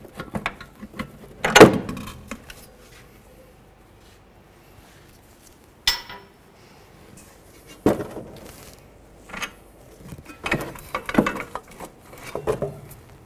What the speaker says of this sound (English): Continuing with the 15mm. Remove the bolt.